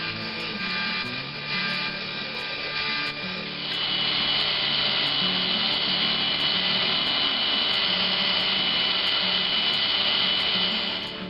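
Wood is being cut to free a jerkbait fishing lure blank, a continuous close rasping saw stroke that grows rougher and louder partway through, with no talking.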